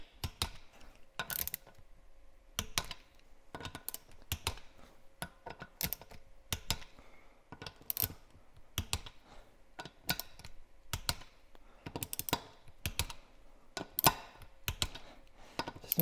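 A torque wrench clicks while wheel nuts on a 2023 Polaris Ranger 1000XP with Tusk beadlock rims are torqued, sharp close ratcheting clicks arriving in irregular bursts with quiet gaps between them.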